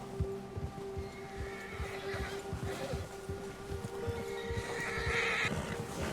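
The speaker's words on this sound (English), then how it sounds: "The bear has spooked your horse. When a predator is nearby, your horse gets agitated" A horse spooked by a nearby bear in Red Dead Redemption 2 whinnies and snorts amid clopping hooves and rustling, with a low droning background throughout.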